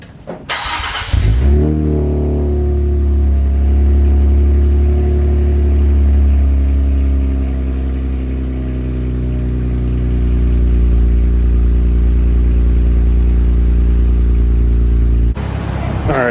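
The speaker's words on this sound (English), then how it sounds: "cold start for the boys" An Infiniti Q60 cold-starts with a sharp crank and catch, then settles into a loud, steady high idle with a deep rumble that holds for about fifteen seconds before cutting off.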